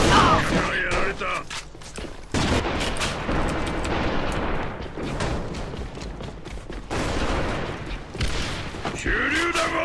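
Loud bursts of gunfire and heavy booms, including grenade explosions, fill a round of the online shooter AVA, with dense rapid shots throughout and brief pauses between volleys.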